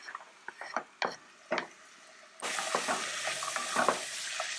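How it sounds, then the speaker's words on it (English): Shallot, apples and carrots in butter for French pumpkin soup. A few scraping, clattering stirs come first, then a steady close sizzle of frying runs underneath further stirring, with no talk. "Stir them and mix well so that they're nicely coated with the butter"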